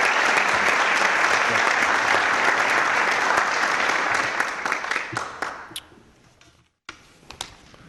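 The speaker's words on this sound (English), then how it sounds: "Let's give all these individuals a round of applause as well." Audience applause fills a city council meeting room, a dense steady wash of clapping that thins into scattered claps and fades out, followed by a few isolated taps and thuds.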